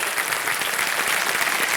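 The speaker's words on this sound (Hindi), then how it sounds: "मैं चाहता हूं देवियों सज्जनों कि सम्मान भरी तालियों के साथ स्वागत किया जाए" A studio audience on the KBC quiz show set applauds to welcome a guest, a dense, steady roar of clapping at full strength across the whole moment.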